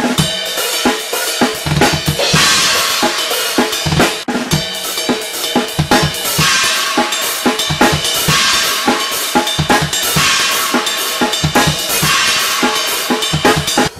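Drums play a faster shuffling groove, dense hi-hat and snare hits over a driving kick, continuous and loud throughout.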